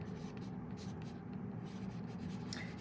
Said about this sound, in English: So let me just write it down.